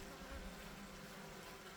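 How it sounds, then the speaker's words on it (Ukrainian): A dense swarm of bees reacting to oxalic acid treatment in a hive hums in a low, steady buzz, faint and continuous, with no voices. "Бджоли відразу на кислоту реагують. Чуєте, як загули?"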